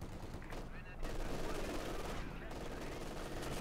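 An MG42 machine gun fires in the strategy game Company of Heroes 2 with a continuous, rattling burst of rapid shots that stays steady throughout, mixed with other battle noise and a commentator talking.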